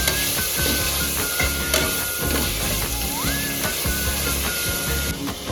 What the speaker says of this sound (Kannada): ಸೊ ಇದನ್ನೆಲ್ಲ ಚೆನ್ನಾಗಿ ನಾವು ಫ್ರೈ ಮಾಡ್ಕೋಬೇಕಾಗುತ್ತೆ